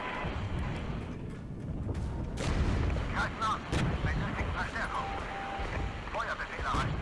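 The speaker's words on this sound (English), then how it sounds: "Some artillery on these guys." Artillery fire in the war game Regiments: repeated low booms and rumbling shell impacts, fairly distant, rolling on beneath someone talking.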